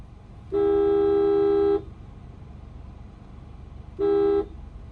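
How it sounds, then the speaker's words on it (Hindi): A car horn honks twice: first a long steady blast of more than a second, then a shorter toot after a pause, both loud and near over low road rumble. "1 से 2 बार हॉर्न दो"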